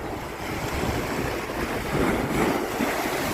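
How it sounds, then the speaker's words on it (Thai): Sea waves surging at high tide on Bang Saen beach, Thailand, in the late afternoon, a steady close wash of surf with wind buffeting the microphone and no voices. "วางบันไดลื่นน้ำทะเลขึ้นสูงมากเลยพี่น้องอยู่บางแสนเนี่ย"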